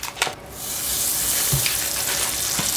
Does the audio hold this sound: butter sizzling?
yes